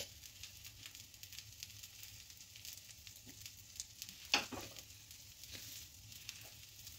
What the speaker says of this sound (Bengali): একটু হওয়ার পর আমি চারপাশে এটা একটু তেল গুলিয়ে দেব।